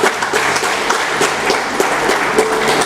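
An audience claps in warm, sustained applause at a gathering, dense and fairly loud, carrying steadily from start to finish.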